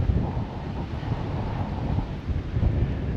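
Strong wind on the hilltop of Loma de Tiscapa, a continuous low roaring buffet across the microphone, heavy and unbroken for a few seconds with no talking.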